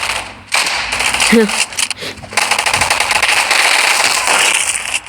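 Gunfire in the online shooter Gunfight Arena with a Japanese soldier loadout and a burst rifle, rapid loud bursts of crackling shots nearly filling the clip, a brief pause near the start, and a voice heard faintly under it.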